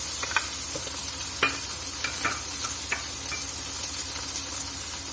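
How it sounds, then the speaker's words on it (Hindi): Chicken pieces with chopped onion and capsicum frying in a pan, a steady soft sizzle broken by several sharp scraping stirs of a spatula, close and alone. "और इसको 1 मिनट के लिए हल्का सा फ्राई करेंगे।"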